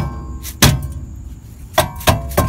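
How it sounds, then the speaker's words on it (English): A rubber hammer strikes the rear brake drum on a 2003-2005 BMW Z4 E85 with an M54B25 engine. The car sits in gear. Four loud, dull thuds land at uneven intervals, close to the microphone. "then I use the rubber hammer"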